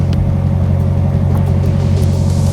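A lifted Ram TRX pickup on 40-inch mud-terrain tires, stuck off-road, drives forward with a loud, steady low engine rumble and throbbing drone, no voices.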